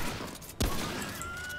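A single gunshot rings out sharply in the video game Remnant From the Ashes over a steady background of game ambience.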